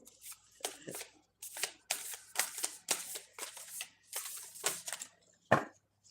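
A deck of playing cards is shuffled by hand in repeated riffling bursts with short pauses between them, crisp and close, followed by a sharper tap near the end.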